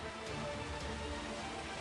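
Heavy rain pours steadily on a flooded street in Klaten, a dense, even hiss with no breaks and no voices.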